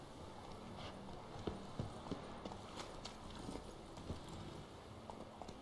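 Roach, a horse in The Witcher 3 video game, clip-clops along with steady, fairly close hoofbeats over a constant ambient bed, with no other sounds standing out.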